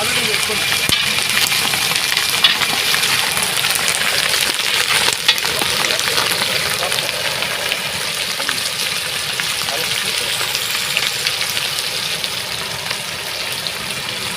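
Torn green chilies frying in a pan of dal give a loud, steady sizzle and bubbling hiss throughout, with occasional stirring scrapes and no voice in the clip.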